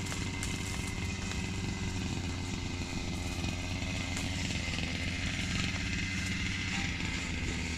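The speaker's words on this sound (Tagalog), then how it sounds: "Habang nagka-grass cutter kami." A grass cutter engine runs continuously outdoors with a steady buzzing drone, moderately close and unbroken throughout, with no talking.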